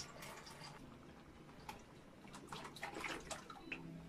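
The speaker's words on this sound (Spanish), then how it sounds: "Le vamos a agregar la leche y a bajarle el fuego." Milk poured from a carton into a pot of arroz de leche on the stove, a faint, steady liquid splash and trickle with a few small clinks, no talk.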